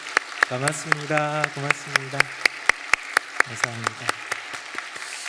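At a Wednesday church service, a congregation claps for a trumpet player and the choir in sharp, evenly spaced claps, while someone speaks briefly over them.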